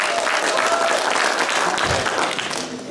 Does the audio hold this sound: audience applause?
yes